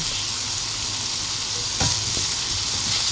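Garlic sautéing in a hot pan, a steady close sizzle throughout with a brief louder crackle burst partway in.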